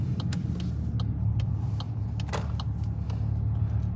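A 2024 MK8 GTI with its resonator deleted rumbles at a low idle, overlaid by a string of sharp, close exhaust pops and crackles at irregular intervals.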